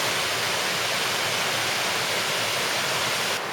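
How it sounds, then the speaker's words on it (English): The Subway waterfall in Zion National Park roars steadily and close, a dense unbroken rush of falling water with no voices, cutting off abruptly at the very end. "We are at the actual entrance now, the subway waterfall"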